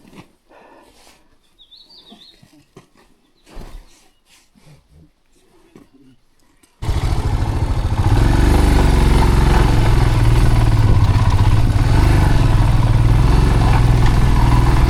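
A Royal Enfield Himalayan 411 motorcycle engine roars loud and steady close by as the bike is lifted on a rough off-road mountain track in Nepal, after several seconds of quiet with faint voices.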